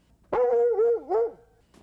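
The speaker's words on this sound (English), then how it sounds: "The girls love to care for Buddy, the family's dog" A family dog gives a single drawn-out, whiny bark-howl up close, rising and wavering in pitch, in an otherwise quiet setting.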